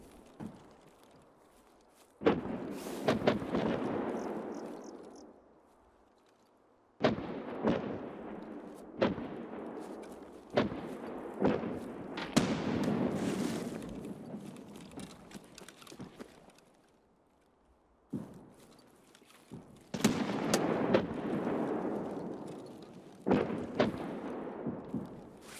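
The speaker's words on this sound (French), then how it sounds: "Je peux avoir un timing exceptionnel avec mes grenades frag." Frag grenade explosions in Escape From Tarkov, several sharp booms spaced apart, each with a rumbling decay, heard fairly clearly with quiet gaps between blasts.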